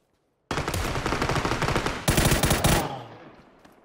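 Automatic gunfire in the video game PUBG: a sudden sustained burst of rapid shots, briefly intensifying midway, then cutting off and fading into a short echoing tail, loud and close.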